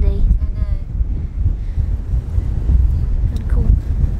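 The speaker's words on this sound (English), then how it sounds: "so windy." Strong wind buffets the microphone outdoors on a storm-exposed shore during treasure hunting, a loud low rumbling roar that surges and dips continuously, with a voice briefly heard at the start.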